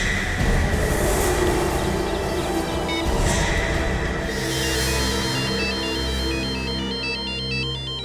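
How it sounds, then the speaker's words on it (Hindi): A phone ringtone in a Hindi crime drama scene plays a repeating electronic melody, loud and steady, starting partway through after a stretch of background noise. "नाम लिया और एसीपी साहब का फोन आया"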